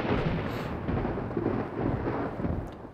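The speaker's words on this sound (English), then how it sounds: "a bolt of lightning shot past me" Thunder rumble following a lightning strike in an audio-drama battle scene, a loud, continuous broadband roar that stays sustained throughout with no voices.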